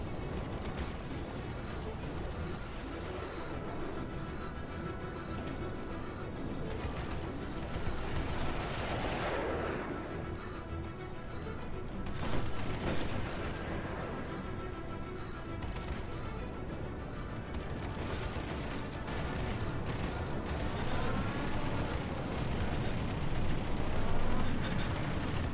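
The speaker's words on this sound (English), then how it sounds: "maybe they increased the damage of that Scorpion Gatling gun. It seems to be doing pretty well." Rapid gunfire from a Scorpion Gatling gun in the space combat game Star Citizen, a dense continuous rattle with booming bursts that keeps going under a steady wash of engine and combat noise.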